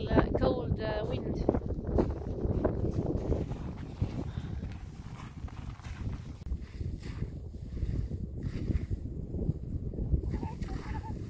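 Cold winter wind blowing at the sea: steady, loud rumbling wind buffeting a nearby microphone, continuous throughout, with a voice speaking briefly at the start.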